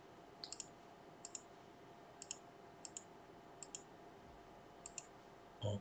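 Faint, sparse clicks come at irregular intervals as a password is entered on a Hikvision 4-channel PoE NVR, probably by mouse on an on-screen keyboard, in a quiet room with a soft thump at the end.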